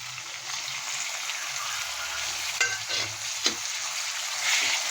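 Vegetables and tomato frying in a pan for upma make a continuous close sizzle, broken by a few scraping stirs and clinks of a utensil partway through, with no talking.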